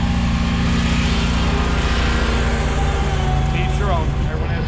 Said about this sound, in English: So, in this light sprinkle, though, we'll keep mowing in this.